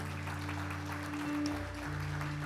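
Audience in a church or seminar hall claps hands together, a steady broadband wash of applause heard over a sustained musical tone, with no voices on top.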